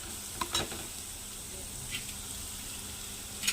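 Ginger frying in a pan for ginger rice gives a soft, steady sizzle with a few brief stirring clicks, fairly quiet throughout.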